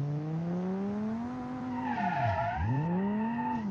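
A 1947-style car built in Automation and driven in BeamNG skids through a handbrake turn in the video game, engine droning steadily as tires squeal in a sharp, rising and falling screech, loud and close.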